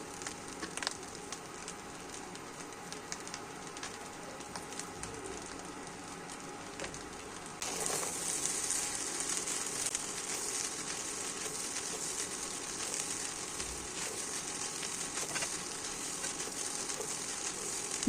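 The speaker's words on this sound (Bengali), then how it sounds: "ভালোভাবে ভাজতে থাকুন।" Rice sizzling steadily in ghee in a home-style pan for chicken fried rice, a continuous crackling hiss that grows louder and brighter partway through, with no voices.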